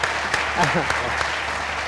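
Applause from a studio audience on a Pakistani cricket talk show, a dense clapping wash with a voice speaking briefly over it.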